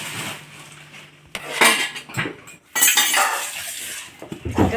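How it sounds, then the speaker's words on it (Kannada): Dishes and metal utensils are washed in a kitchen, with irregular clinks and clattering bursts of cutlery and pots knocking together, close by and without talk. "ಸ್ವಲ್ಪ ಪಾತ್ರೆ ಇತ್ತಲ್ಲ ಅದನ್ನ ತೊಳ್ಕೊಬಿಡ್ತೀನಿ"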